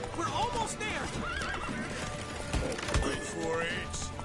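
In The Witcher 3 game, a horse whinnies in rising, wavering calls over quick hoofbeats, with shouting voices and battle noise mixed in close around it.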